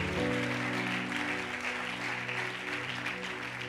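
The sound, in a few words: church congregation applauding and cheering loudly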